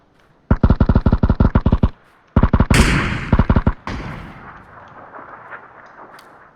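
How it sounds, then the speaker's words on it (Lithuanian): Grenade explosions and heavy gunfire in a video game, a loud rapid string of booming blasts, then a second cluster fading into a long rumbling decay, close, with no talking. "Aš granatų ten mėtau daug."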